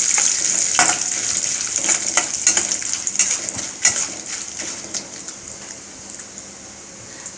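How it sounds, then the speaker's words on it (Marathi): Urad dal sizzles and crackles as it fries in a pan while batata vada is being prepared, a steady hiss broken by frequent sharp pops and stirring scrapes, close and fairly loud throughout with no talk. "उडदाची डाळ, थोडं आपण परतवून घेऊया"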